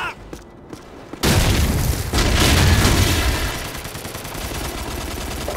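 Grenade blast in Call of Duty Modern Warfare Reflex on the Wii during a Search and Destroy match: a sudden loud boom after a quiet moment, followed by a sustained roar of gunfire and rumbling battle noise.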